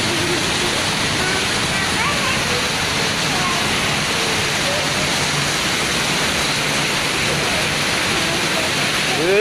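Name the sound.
heavy rain with strong wind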